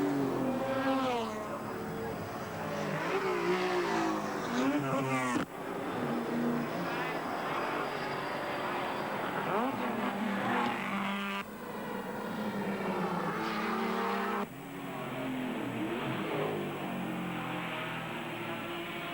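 Race cars at the 1983 Bathurst 1000 sweep past in full flight through Forest Elbow, their engines roaring steadily across the track under continuous commentary that runs throughout.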